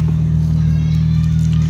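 Steady, loud, low drone from a Cynos EL44 drift car engine with a slipping, overheating clutch, heard close and unchanging through the brief moment, with no talking.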